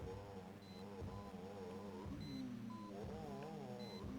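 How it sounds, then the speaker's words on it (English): Short electronic beeps repeat every second or so in the 1996 DOS game Deus, a couple of brief higher tones over steady, busy game music. "I can hear beeping"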